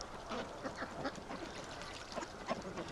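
Ducks kept for breeding and egg-laying, splashing in fresh water, quack in a quick, uneven series of calls close by. The calls repeat throughout over a busy background with no talking.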